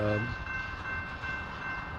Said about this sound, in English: So I think that was that coal train that was shoving earlier.